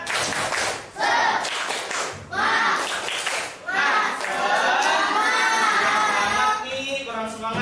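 A classroom of children performs a rhythmic spirit clap in bursts of patterned hand claps, with young voices chanting loudly along in between.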